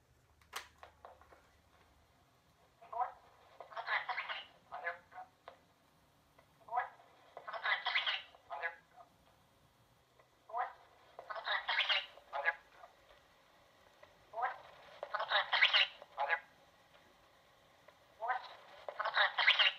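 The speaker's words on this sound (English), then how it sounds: "So you can hear it's a mixture of sped up recordings and normal dialogue." A roughly four-second cassette tape loop repeating sped-up recordings mixed with normal dialogue, giving chirpy high-pitched bursts in irregular clusters between short gaps, fairly faint and thin.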